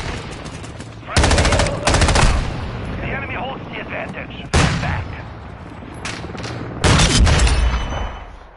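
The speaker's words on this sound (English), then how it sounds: "There's a dude just sniping." Bursts of gunfire ring out loudly in a Call of Duty Warzone match, several heavy volleys separated by rumbling battle noise and faint game chatter.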